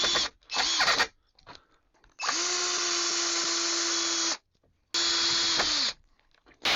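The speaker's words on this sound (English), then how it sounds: "We're going to screw these 2x4s to the existing 2x4s, but not all the way." A power drill drives screws into 2x4 boards: a couple of short whirring bursts, then two long steady high drill runs that wind down as each screw seats, close and loud with no talk.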